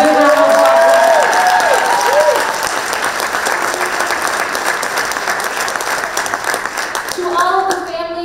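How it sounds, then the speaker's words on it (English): A large audience at a high school holiday concert claps steadily and loudly, a dense wash of applause with a few voices rising over it at the start and end. "So a big round of applause"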